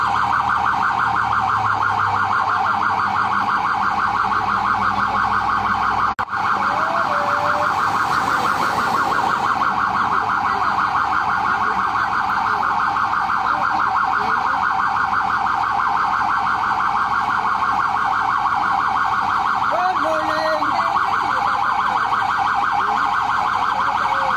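Emergency vehicle sirens wail continuously during a rescue march on a national highway, a loud steady tone with a rhythmic warble, while passing traffic sounds can be heard underneath.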